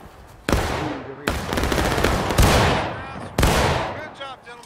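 Musket volleys ring out in the Civil War game War of Rights as four loud, booming discharges, each a heavy burst of overlapping shots that fades into a crackling echo.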